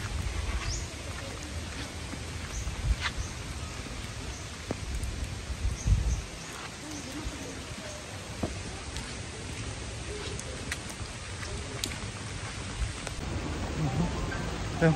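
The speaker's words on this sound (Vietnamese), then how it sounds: "biển sau lưng chúng ta bây giờ trời mưa thì những trời đổ cơn mưa rồi, mưa lớn rồi quý vị ơi" Heavy rain pours steadily at a beach on Phu Quoc island, a dense, even hiss of rainfall close around with no talking.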